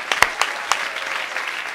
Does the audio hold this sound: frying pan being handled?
no